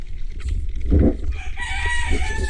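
A rooster crows nearby, a hoarse drawn-out call rising over a low rumbling background, followed by a brief softer cluck.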